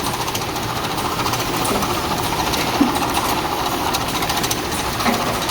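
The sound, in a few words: rotary heat-sealing packaging machine CR8 250 running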